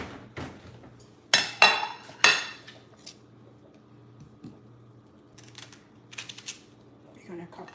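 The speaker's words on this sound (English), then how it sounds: "We're gonna cut the onions" A knife cuts onions on a board, with a few sharp, loud knocks close together early on, followed by scattered softer taps and clatter, and a faint voice at times.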